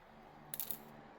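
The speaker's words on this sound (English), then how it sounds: "don't need the scissor and nail clipper anymore, so we put aside" Scissors and a nail clipper are set down on a surface, a brief cluster of three or four small metallic clicks and clinks in an otherwise quiet room.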